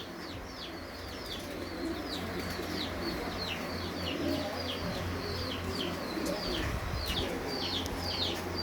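A Lahori golden pigeon among other pigeons, with repeated soft coos and chirps over a continuous low background hum, no voices.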